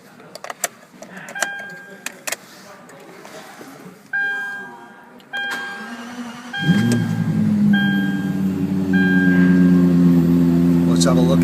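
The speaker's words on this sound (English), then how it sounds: "you can probably hear that beautiful V10 in the background" A few clicks and beeps, then a 2012 Lexus LFA V10 engine cranks and catches with a sharp roar before settling into a deep, steady idle.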